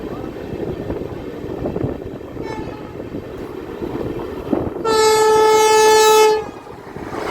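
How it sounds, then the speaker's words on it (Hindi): The Danapur Sahibganj Intercity Express rumbles along the rails as it crosses the Howrah Jamalpur Vande Bharat Express. A loud, sustained horn blast rings out for about a second and a half over the steady clatter, with a fainter toot before it. "उससे पहले हमारी ट्रेन का क्रॉसिंग होने वाला है हावड़ा जमालपुर वंदे भारत एक्सप्रेस से"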